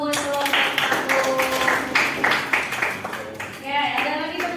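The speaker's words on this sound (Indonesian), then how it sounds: "Tepuk tangan dulu buat kelompok satu" Classroom applause for group one starts up as scattered, uneven hand claps at moderate volume, coming in bursts with voices talking over them throughout.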